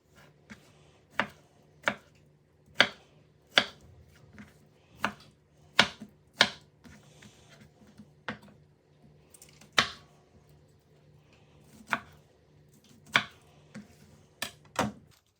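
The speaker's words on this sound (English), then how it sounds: "Slice the tomato, then cut those slices into smaller slices by cutting in the other direction" A knife cuts through tomato onto a chopping board in a series of sharp, evenly spaced chops, about a dozen crisp strikes with brief pauses, close and clear in a quiet kitchen with no talking.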